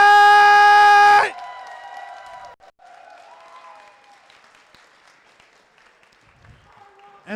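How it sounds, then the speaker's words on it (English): A crowd at a fighting-game tournament's Top 8 finals gives a round of applause, heard briefly at the start and quickly cut off by a loud sustained electronic tone, with faint background sounds and scattered voices after. "Can I get the final round of applause for our entire Under Night"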